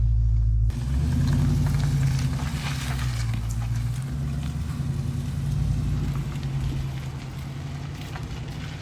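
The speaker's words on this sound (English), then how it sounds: "I'm gonna take it for a little test drive." A salvage-auction car out on a test drive after a suspension repair, heard from inside as a steady low road and engine rumble that starts abruptly and continues throughout, with no speech.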